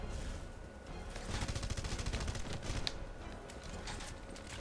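Rapid gunfire in the video game Red Faction: Guerrilla, dense overlapping bursts of automatic shots rattling continuously through the whole stretch at steady loudness, with no talking over it.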